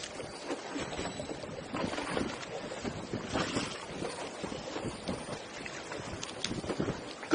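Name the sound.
wind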